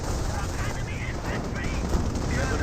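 Dense battlefield gunfire from the World War II strategy game Company of Heroes, with continuous rattling shots and distant booms, heard under talk for a few seconds.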